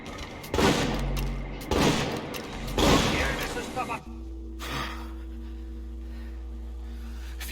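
Three loud bursts of gunfire from the video game Assassin's Creed 4 Black Flag ring out in quick succession with a speaking voice mixed in, followed by a sustained low rumble and a quieter tail.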